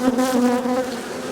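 Bees buzz close by at a hive in an Australian bee yard, a loud droning hum that lasts just over a second with no talking.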